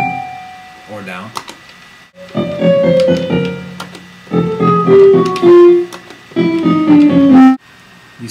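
Synthesizer notes played from a Guitar Hero controller via MIDI come in several bursts separated by short pauses, each a buzzy, harmonic tone, some sliding downward in pitch as they sustain.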